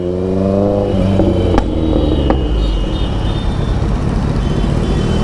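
A vehicle approaches loudly with a droning engine and a growing rough roar of road noise, with a couple of brief clattering knocks along the way.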